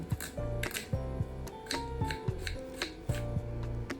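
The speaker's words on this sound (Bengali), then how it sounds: "আমি একটু পেঁয়াজ একটু কুচি করে কেটে নেব" An onion is finely chopped on a board, a quick uneven series of close knife taps and thuds with short pauses between strokes, with no talking.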